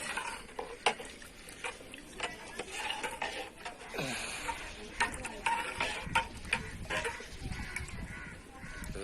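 Rice being stirred in a pot over a wood-fired clay stove outdoors, with scraping and clinking strokes at an irregular rhythm over a faint fire crackle, fairly close, with rooster and bird calls in the background.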